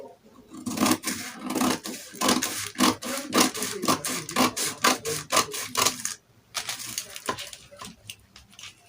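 Scissors cut through dress fabric in a rapid series of close, crisp snips, a short pause breaking the rhythm before the cutting resumes.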